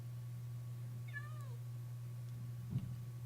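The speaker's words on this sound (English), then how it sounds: "I need to find that cat and get rid of it." A cat meows once inside a Minecraft FTB modpack game, a short rising-then-falling call over a steady low hum, followed by a brief soft thump.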